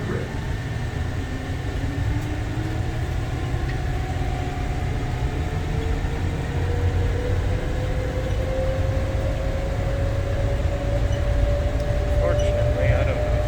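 An airport people-mover tram at Las Vegas rides toward the D gates, with a continuous rumbling roll and a rising electric whine building slowly over the journey, heard from inside the car at a steady level.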